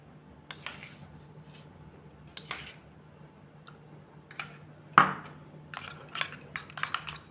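Spoonfuls of homemade spice paste go into a bowl of unsalted butter, giving a few quiet clinks and taps of a spoon against the bowl, with one sharper knock among soft scraping sounds.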